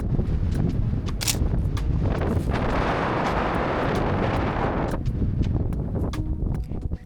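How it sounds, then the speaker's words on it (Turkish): Loud, roaring gusts of wind buffet close by, a dense rushing noise that swells in the middle and stays heavy throughout. "Ama epey şiddetli rüzgar var"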